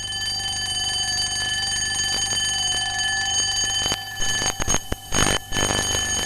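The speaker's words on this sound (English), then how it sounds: "An alarm clock" A ringing alarm clock in an old Magic Roundabout episode rattles on with a steady metallic jangle, loud and continuous, then breaks into choppy bursts near the end.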